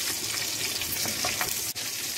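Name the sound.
sausages frying in a cooking pot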